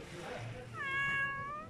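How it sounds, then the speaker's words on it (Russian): Cat meowing at a seaside café in Gümüşlük, Bodrum, Turkey: one clear, drawn-out plaintive meow, close and moderately loud, following a low murmur of background talk. "Кот, что ты жалуешься?"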